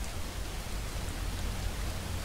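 Steady rain falls in Skyrim, a video game, as an even, hissing wash of drops with a low rumble underneath, constant and moderately loud with no voices.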